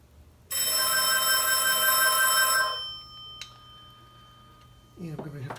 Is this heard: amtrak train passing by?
no